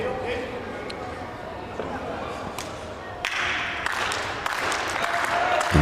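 A wrestling crowd in an arena applauds, with the clapping swelling louder toward the end. Sharp slaps and thuds from the ring cut through, and commentators talk over it.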